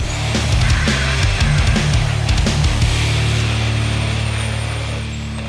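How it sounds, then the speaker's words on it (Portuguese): A 1500 hp diesel truck engine managed by a FuelTech FT550 rumbles loudly and steadily, with deep low harmonics and sharp bursts in the first three seconds, then settles into an even, heavy drone. "o primeiro caminhão do mundo a diesel controlado pela Fueltech"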